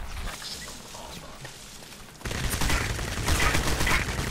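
Enemy gunfire in the shooter game Crysis, a dense rattle of distant shots that grows louder and busier midway, continuing as a steady crackling fusillade with no talking.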